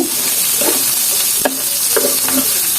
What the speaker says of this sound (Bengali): এই যে কাঁচামরিচটা দিয়ে দিলাম এবার সব একসাথে এরকম ভেজে নিয়ে